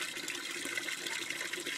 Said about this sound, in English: I give each plant about half a gallon of water per day from my rain barrel here